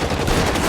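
Rapid gunfire in L.A. Noire on a ship, a dense burst of overlapping shots filling the short moment, loud and close.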